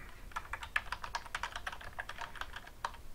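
Steady typing on a computer keyboard, a quick run of close, crisp key clicks at an uneven rhythm with no talking.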